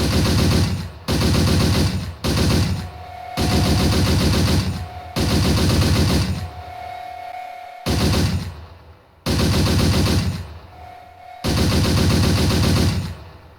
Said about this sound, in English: Yes, you do have a machine gun.